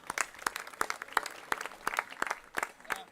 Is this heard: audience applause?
yes